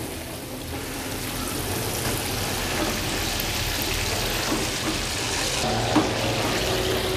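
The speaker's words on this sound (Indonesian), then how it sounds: "Kita goreng sampai kering." Chicken feet deep-fry in hot oil, crisping until dry, with a steady, dense sizzle and faint crackles throughout and no talk.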